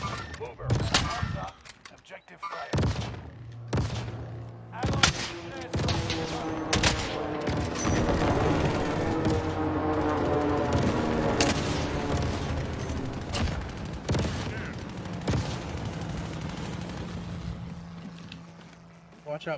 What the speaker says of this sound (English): Shot behind us.